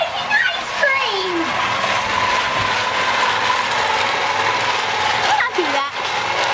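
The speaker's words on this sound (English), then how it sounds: "If you have an old-fashioned ice cream maker like I do" An old-fashioned electric ice cream maker churns with a rattling, ratchet-like mechanical grinding throughout, while a voice exclaims over it now and then.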